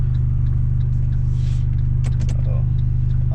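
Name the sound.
Fiat Abarth exhaust noise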